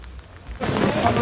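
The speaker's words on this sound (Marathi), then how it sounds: "मस्त पाऊस पडते" Monsoon rain at Matheran hill station starts as a broad steady hiss after a quiet moment, falling close and fairly loud near a full parking area.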